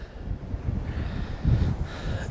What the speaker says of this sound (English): It is so windy here, honestly.